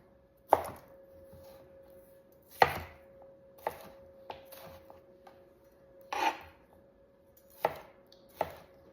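A knife cuts a cleaned bell pepper into chunks on a cutting board, giving about eight separate crisp chops, spaced unevenly and close, over a quiet steady background hum.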